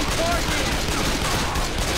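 Continuous rapid gunfire in the co-op shooter Left 4 Dead 2, set in a hotel level: a dense, unbroken clatter of shots that stays loud for the whole two seconds, with players talking over it.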